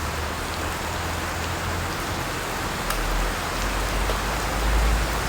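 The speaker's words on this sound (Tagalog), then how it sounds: "Ulan na ulan. Lakas na ulan." Steady heavy rain pours down in Manila in a dense, constant hiss, with a low rumble underneath and no voices.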